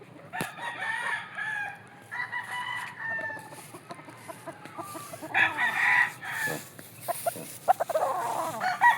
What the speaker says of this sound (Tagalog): masyado maganda yung manok namin